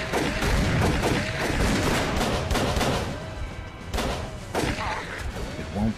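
Gunfire in Call of Cthulhu, a rapid string of sharp shots and booms running across the stretch, loud and dense, while voices shout over the shooting.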